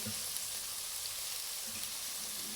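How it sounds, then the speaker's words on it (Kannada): Onions frying in a pan give a faint, even sizzle that holds steady throughout, close by with no talking. "ಈರುಳ್ಳಿ ಚೆನ್ನಾಗಿ ಫ್ರೈ ಆಗುತ್ತೆ"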